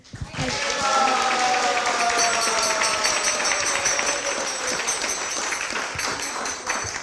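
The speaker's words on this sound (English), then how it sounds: "We'd also like to give a round of applause to our speaker, His Grace Vaisheshika Prabhu" A congregation at ISKCON of Silicon Valley gives a round of applause for the speaker after a talk and Aarti, a full, sustained clapping that swells quickly and holds steady for several seconds while tonal sounds ring through it.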